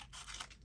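Scissors cutting paper while trimming an envelope: a short, faint crisp snip with a papery rasp, heard alone and close.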